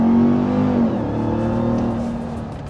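A 2021 Ram 1500 TRX pickup accelerating hard, its engine roaring loudly from close by and its pitch shifting as it pulls, with no talk over it.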